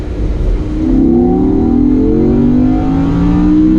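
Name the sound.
sports car engine revving to redline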